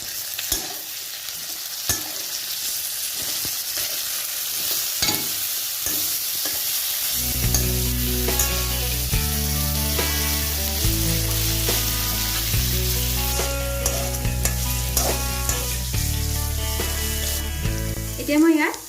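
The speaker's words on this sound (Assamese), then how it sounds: "একেলগতে মিক্স কৰি ভাজি লম" Ginger, garlic and chili paste sizzles with dried sea fish in a pan, a steady hiss with scraping stirs throughout, and background music joins partway through.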